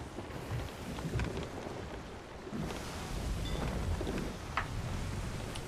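A thunderstorm at sea in Sea of Thieves, heard as a steady broadband wash of rain and rough water with low rumbling swells throughout, fairly faint, with no voices.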